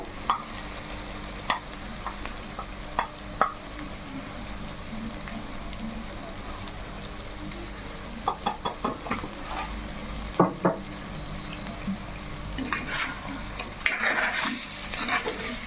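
Chicken biryani cooks in a clay pot with a steady low sizzle, and a utensil occasionally scrapes and taps against the pot as it is stirred.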